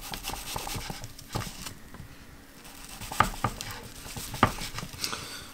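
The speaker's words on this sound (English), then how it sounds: "depending on how thin you want the onion to be cut. Then you're going to cut it once or thrice." A knife taps and chops through an onion on a cutting board in irregular soft strikes, with a few sharper thuds, close and fairly quiet, with no talking.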